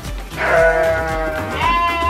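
Garut sheep in a shed bleat in drawn-out wavering calls, several overlapping voices close by and fairly loud.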